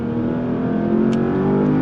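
A Porsche Panamera GTS performance car engine pulls hard under full throttle, a loud, steady, close-up roar that holds evenly for the whole stretch with no talk over it.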